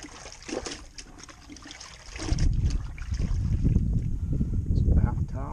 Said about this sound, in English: And this is the rinse bucket. Just rinsing by hand.